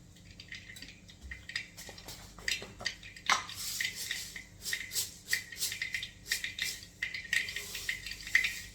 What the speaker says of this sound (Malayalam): നമ്മുടെ കടുക് പൊട്ടി തുടങ്ങി.